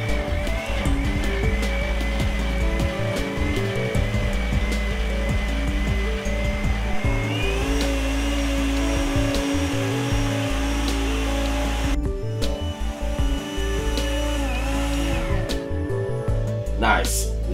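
A kitchen blender whirs steadily as it purées brown stew chicken sauce, its motor droning loud and continuous with pitch shifts, briefly pausing and restarting, while someone talks over it.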